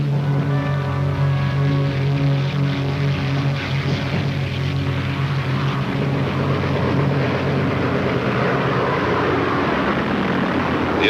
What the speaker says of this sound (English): The attacking aircraft swept aside the few fighters the Japanese carriers had left and savaged Admiral Ozawa's fleet.